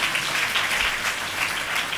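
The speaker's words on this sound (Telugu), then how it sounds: "చప్పట్లు కొట్టి దేవుని స్తుతిద్దాం." A church congregation at a fasting prayer service clapping their hands in praise, a continuous, fairly loud wash of applause with no speech over it.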